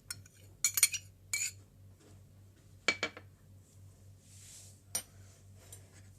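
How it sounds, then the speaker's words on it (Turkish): A spoon clinks and scrapes against a bowl in a few short bursts, with quiet pauses between, while chicken is mixed with yogurt, salt, black pepper and spices. The sound is close and soft. "Şöyle güzelce karıştırıyorum."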